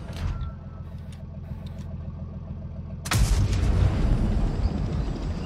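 In World of Tanks Blitz, a tank gun fires with one sudden, heavy boom about three seconds in, cutting through a low engine rumble and light background clicks, its blast lingering as a rough roar afterward.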